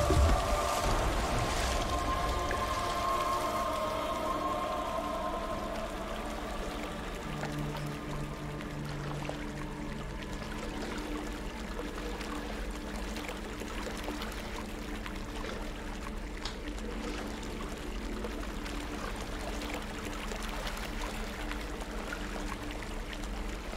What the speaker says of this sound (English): I thought we were going over a waterfall.